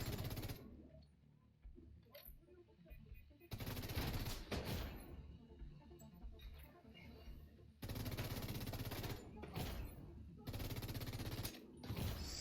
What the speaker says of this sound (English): Someone's definitely shooting me from behind.